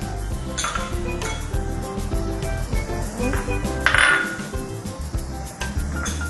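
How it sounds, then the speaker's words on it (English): Tomato sauce with oregano, chili pepper and salt being stirred in a pot, a steady run of utensil clinks and scrapes against the pan over a low continuous background, close and moderately loud. "So just stir everything in."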